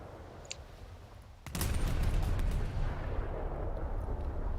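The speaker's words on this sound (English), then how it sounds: "you can fire all 4 guns across the deck at certain angles" Warship deck guns in a naval video game fire a broadside: after a quiet lull a heavy, booming salvo hits abruptly, followed by a sustained rumbling roar that stays loud until the end.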